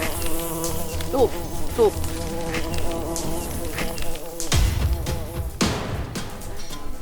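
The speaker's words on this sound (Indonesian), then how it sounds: "meski hanya 1-2 lebah yang berkeliaran di sekitar kita" Bees buzz close by in a continuous droning hum that rises and falls as individual insects pass near, with a few loud bursts and people talking softly underneath.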